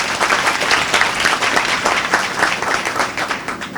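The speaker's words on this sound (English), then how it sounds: "Give yourselves a round of applause" Students applauding at a college event, a dense, steady round of many hands clapping at moderate loudness throughout, with some faint crowd noise mixed in.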